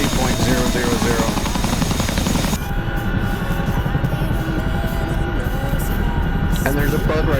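A Chinook helicopter's engine and rotors drone loud and continuous in a war video game set in Syria, a dense, steady roar with faint gunfire-like crackles and the sound muffling partway through.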